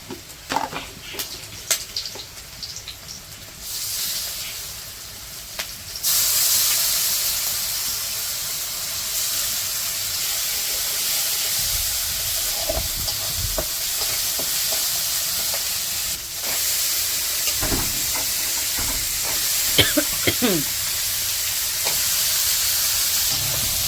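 Onions and spices fry and sizzle steadily in a pan with occasional stirring scrapes, a loud continuous hiss filling the whole stretch.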